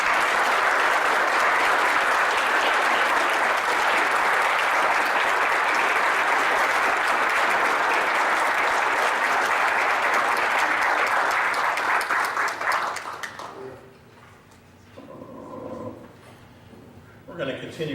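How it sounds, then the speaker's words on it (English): Applause from a crowd fills a sports hall of fame ceremony, loud and sustained for about thirteen seconds before stopping abruptly, followed by scattered quiet room noise. "let's give a round of applause"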